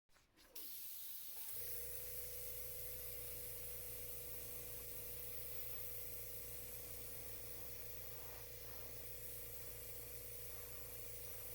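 Airbrush or spray can misting green paint onto a DIY tentacle hand prop, a steady continuous hiss with a low mechanical hum running throughout, close and alone.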